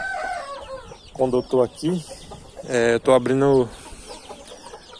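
Chickens and roosters in a free-range backyard flock, with several close, loud clucks and squawks in short bursts over faint background talk in Portuguese.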